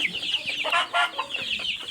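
Tiger chickens raised on a farm cluck in short, close bursts, with several birds calling softly over a quiet background and no one speaking.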